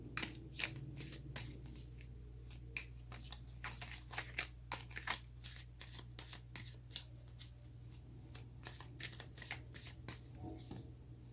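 Tarot cards being shuffled by hand, a rapid run of close, crisp riffling flutters repeating steadily throughout, quiet with no talking.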